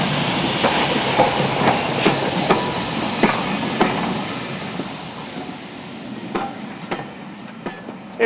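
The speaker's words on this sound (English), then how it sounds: "Here we are on 31128, Type 2 locomotive again, BR Blue" Class 31 Type 2 diesel locomotive in BR Blue livery running on a heritage railway, with a steady loud rumble and repeated clickety-clack wheel beats on the rails throughout.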